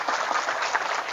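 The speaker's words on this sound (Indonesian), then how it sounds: "Tepuk tangan." An audience at an Indonesian Islamic religious lecture by Ustadz Suparman Abdul Karim applauds, a dense, steady wash of many hands clapping together at moderate loudness throughout, without any voices over it.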